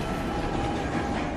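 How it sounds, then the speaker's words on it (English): NYC subway uptown local 1 train at Fulton Street, a steady close rumble of wheels and carriages filling the platform for a brief moment. "Is uptown, local 1, train to Rector Street. Approaching the station,"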